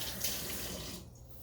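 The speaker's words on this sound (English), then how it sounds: "Wash my fingers off." Fingers rinsed under a running kitchen tap, a steady close rush of water that cuts off about two-thirds of the way through, with no speech.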